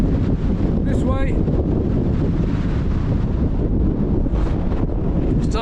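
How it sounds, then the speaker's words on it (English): Strong wind buffets the microphone on an open fell near Pillar and Scoat Fell, a loud continuous roaring rumble with gusty swells and no pauses. "Starting to get a bit fruity with the old wind"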